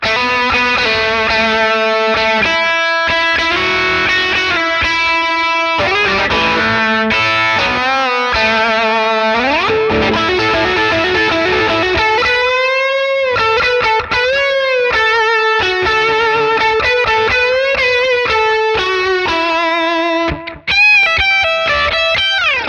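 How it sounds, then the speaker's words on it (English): A saturated, sustaining electric guitar lead tone through a Sonicake Matribox II Pro plays fast melodic runs with bends, thick and distorted, loud and continuous without any talking over it. "when I hit the lead switch, now it's a lead sound"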